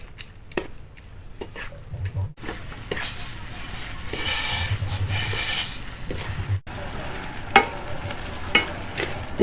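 Bean sprouts stir-fried in a pan for a Korean-style sprout and egg dish, giving a steady sizzle with scraping stir strokes and a few sharp utensil clinks near the end.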